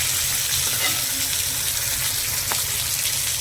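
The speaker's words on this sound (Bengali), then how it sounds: "মাছটাকে ভালো করে ভেজে নিচ্ছি" Fish fries in hot oil with a constant, close sizzle and hiss, a low rumble beneath and one brief sharp crackle partway through.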